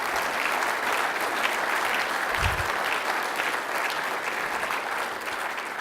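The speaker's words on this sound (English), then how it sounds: "let's have a huge round of applause for Senator Chuck Grassley, Joni Ernst, and our Governor Kim Reynolds" Sustained audience applause at the 2018 Iowa Renewable Fuels Summit, a dense, even wash of many hands clapping throughout with one brief low thump midway.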